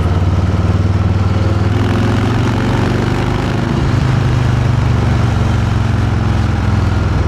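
A 2021 Harley-Davidson Softail with stock exhaust idles steadily and loud, its low, lumpy engine rumble running unbroken throughout with no voices.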